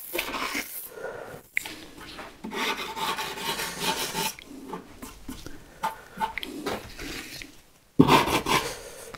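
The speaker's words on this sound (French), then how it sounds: "petit coup de cale." A sanding block rubs along the edge banding of a wood panel in a joinery workshop, giving a series of close, rasping strokes with brief pauses between them and a louder scrape near the end.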